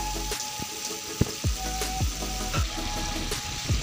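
Pointed gourd frying with green chilies in a pan, a steady close sizzle with occasional soft pops and clinks of a utensil, no voices.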